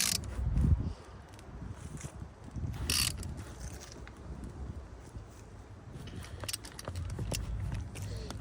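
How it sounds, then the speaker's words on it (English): A wrench tightens the bolts on a CAT diesel engine's thermostat housing, giving faint, scattered ratcheting clicks and metallic taps that come in irregular bursts over quiet background noise. "Alright, put the housing back together. Just tighten all the bolts up."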